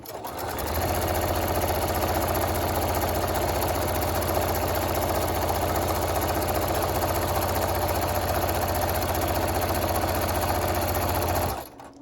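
A domestic sewing machine stitching down matchstick quilting lines on bag panels, running steadily and continuously at close range for nearly the whole stretch, with a brief start and a sudden stop at the end.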